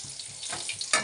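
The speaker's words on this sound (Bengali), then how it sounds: "মাছ ভাজা হয়ে গেছে, এই যে একটু লাল লাল করে ভেজে নিলাম" Rohu fish frying in hot oil, a short close crackling sizzle with a soft scrape near the end.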